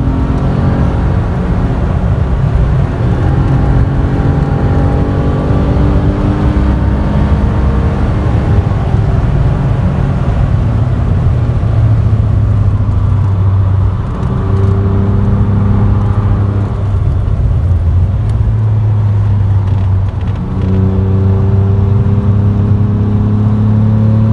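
A car driving a lap of the Nürburgring, its engine loud and continuous from inside the cabin, the pitch rising and dropping through gear changes across the whole stretch, with no voices.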